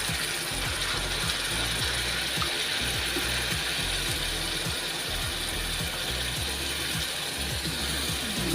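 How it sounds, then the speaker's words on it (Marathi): Masala sizzles as it sautés in oil in a pan for stuffed pomfret, giving a steady, even hiss with frequent small clicking and scraping taps throughout, with no talk. "आता आपण मसाला जरा तेलामध्ये परतून घेऊया. मसाला फ्राय करून घेते."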